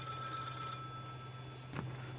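A telephone rings inside the office in the video game Contraband Police, a brief buzzy electronic ring heard in the first part of the clip over a steady low hum. After a pause, a faint short knock-like sound follows.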